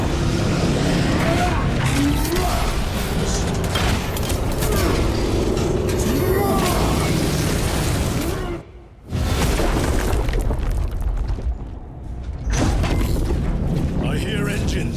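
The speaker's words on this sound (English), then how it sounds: "I hear engines." Engines roar in a Warhammer 40,000: Space Marine 2 battle scene, a loud, rumbling mechanical drone with booming impacts and two short drops to near quiet, while voices speak over it.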